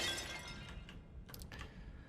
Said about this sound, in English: Another smashed jug.